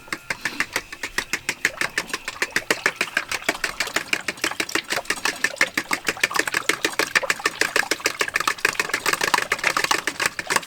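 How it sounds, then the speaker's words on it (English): Fork whisking in a bowl at an outdoor camp cook-up, a fast, steady rhythm of sharp clicking taps continuing without a break, close and fairly loud. "I don't actually have a whisk out here, so I'm just going to use a fork."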